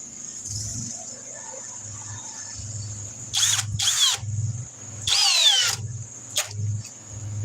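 A half-inch high-torque impact wrench fires in loud, harsh bursts: two short ones, then a longer run, over a steady background whine and low hum, with pauses between bursts.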